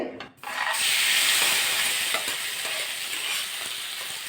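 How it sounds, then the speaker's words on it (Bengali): Grated potato drops into hot oil in a kadai and erupts into a loud, dense sizzle that holds strong and close, easing only slightly as it settles into continuous frying. "সেই আলুটা এবার দিয়ে দেবো কড়াতে"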